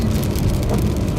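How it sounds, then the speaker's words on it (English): Heavy rain pours during a severe storm in the Ohio Valley, a dense, constant roar drumming hard and close with strong wind, no voices. "Get hit by a lot of rain."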